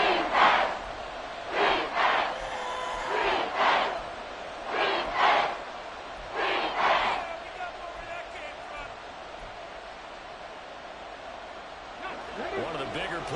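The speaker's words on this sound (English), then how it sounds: "The crowd getting into it as we come up on a big 3rd down" Stadium crowd noise from a Madden 24 football video game swells in repeated bursts of roaring cheers ahead of a big third down, with a commentator's voice talking over parts of it.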